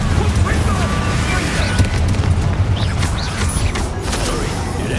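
In the Hogwarts Legacy video game, a Confringo fire blast spell erupts in heavy booming bursts amid the noisy clatter of a spell duel, loud and close throughout.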